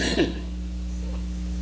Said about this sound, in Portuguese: Desculpa que eu estou com um pouco de tosse.